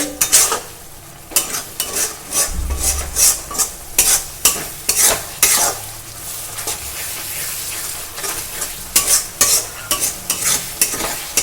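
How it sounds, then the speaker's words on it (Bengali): Onion paste frying in oil released from chicken for a curry, loud sizzling broken by rhythmic scraping strokes of a spatula against the pot, close and continuous without speech. "পেঁয়াজ বাটাটা সুন্দর করে কষে নেবো এই তেলেতে"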